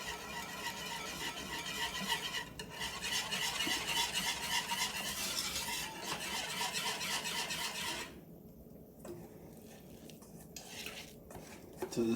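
Flour being stirred into melted butter in a pot for a sauce, a steady scraping and rubbing of utensil against pan that runs continuously, then thins out and turns intermittent near the end.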